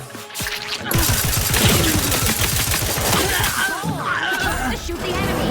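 Rapid gunfire in the video game The Outer Worlds 2, a sustained loud volley of overlapping shots with crashing game effects that carries on for several seconds.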